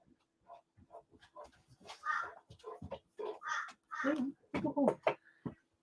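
A crow caws repeatedly while a dog barks at it in short outbursts nearby. People talk over the calls at a moderate level.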